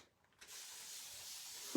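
Shimmer Frost shimmer white spray paint sprays from a can onto a wooden pallet snowflake, a steady close hiss that starts abruptly after a moment of quiet and runs continuously.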